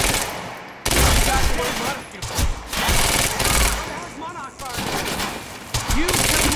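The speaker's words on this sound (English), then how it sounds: "You heard the gunfire." Rapid bursts of gunfire and explosive blasts from the video game Quantum Break fill the clip, loud and continuous, with shouting voices mixed in among the shots.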